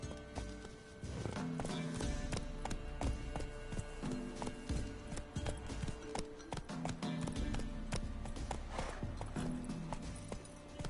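Roach the horse gallops in The Witcher video game, making quick rhythmic hoofbeats that thud steadily and close throughout over a low game ambience.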